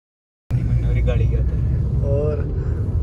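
A car engine catches abruptly and settles into a steady, close, low rumble as the vehicle moves off, with people talking over it.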